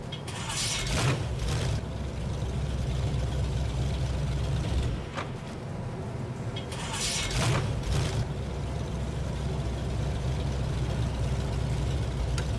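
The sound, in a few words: Chevy 350 engine starting and idling in video game SnowRunner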